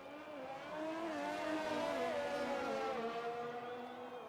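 A Haas Formula car pulls out of the pits in a racing video game at a Japan round, running dry-weather tyres, its high engine whine rising steadily and holding loud and close for several seconds.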